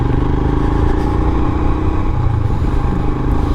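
A Royal Enfield Himalayan motorcycle ridden along a highway, its engine a loud, continuous low drone with a rough, throbbing texture close to the rider.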